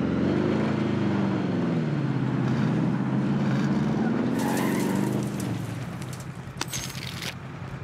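A vehicle driven in Call of Duty Warzone, a steady engine drone that holds loud for several seconds, then drops back with a few sharp clanks and bursts near the end.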